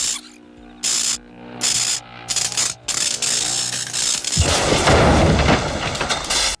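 A practical film effect of a Pershing No. 2 missile warhead bursting up through a set floor with breakaway walls: bursts of booming, crackling impacts lead into a loud, sustained rushing roar of debris in the final seconds.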